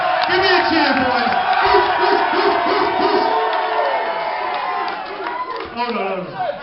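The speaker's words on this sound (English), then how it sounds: "Give me a cheer, boys." Wedding guests cheering and shouting together during the speeches, a loud, close, sustained roar of many voices with some clapping that gradually eases toward the end.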